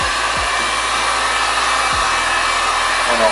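A heat gun blows steadily and loudly while warming Arlon vinyl wrap film, a continuous whooshing roar of hot air with a couple of brief low thumps near the start, no voices.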